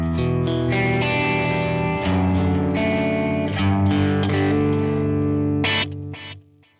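Electric guitar played through a UAFX Del-Verb pedal on its tape EP3 delay setting rings out loud and sustained, with chords and notes smeared by repeating echoes that trail off at the end.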